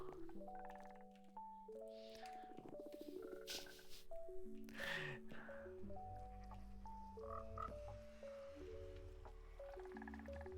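Several frogs in the video game Minecraft croak again and again in short bursts, layered over soft, tonal background notes at moderate volume.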